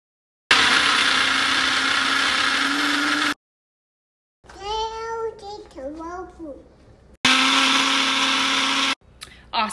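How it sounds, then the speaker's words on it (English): Loud electric blender whirring through a cilantro lime sauce in two long bursts, a steady motor whine cut by a pause where someone talks, then the motor roars again before stopping. "blending some things up to make a sauce"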